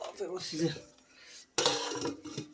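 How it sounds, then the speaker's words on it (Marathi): A lid set onto a cooking pot over a wood-fired village stove with a sharp metallic clatter and brief ringing, following a stretch of speech. "आता याला झाकण म्हणून घ्यायचं मस्त"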